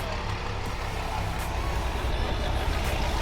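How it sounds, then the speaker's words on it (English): A diesel resto-mod truck built on a modern Dodge chassis idles nearby at a car show, a steady low rumbling drone with no breaks and no talk. "You can hear it's a diesel."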